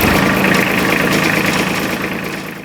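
An Iseki SIAL 243 tractor engine runs at a steady idle, loud and close, with a rough, evenly pulsing rumble throughout.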